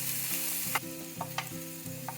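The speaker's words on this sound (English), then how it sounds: "the first few minutes go in frying the onion and capsicum very well" Onion and capsicum fry in a pan, a steady close sizzle with soft scraping stir strokes repeating about every half second, alone without talk.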